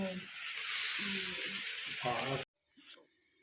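Fish fry in a pan with a bright, steady hiss and sizzle that runs for over two seconds and then cuts off abruptly, with a voice talking over it, followed by a brief soft clatter.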